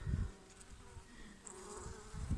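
Honeybees in an opened hive, with drones still inside, make a dense, close, steady buzzing hum with a few louder swells as bees pass near.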